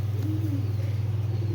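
A racing pigeon coos softly at close range with a short wavering call over a steady low hum, and there is no talking.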